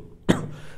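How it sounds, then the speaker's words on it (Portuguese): A single short, harsh cough from a lingering cold bursts out once, then fades into quiet room noise. "Aí ficou essa tosse chata pra caramba."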